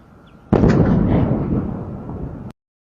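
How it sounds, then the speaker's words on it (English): A loud industrial plant explosion bursts in suddenly, a heavy sustained blast roaring and rumbling for about two seconds before cutting off abruptly, with no voices. "This is not a normal plant explosion."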